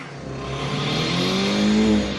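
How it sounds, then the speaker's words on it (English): A car engine revs hard and loud, its pitch climbing steadily and holding at a high whine before easing slightly. "Listen to the rev of the engine and the smoke coming off of it."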